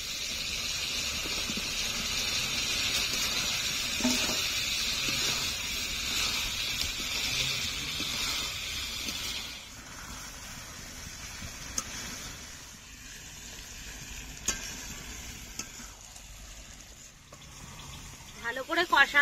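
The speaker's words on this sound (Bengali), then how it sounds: "ভেজে রাখা আলুগুলো দিয়ে দেব।" Fried potatoes sizzling and being stirred in a pan for Bengali aloo dum, a steady hiss that drops away midway, leaving quieter scraping and small clinks before a few louder knocks at the end.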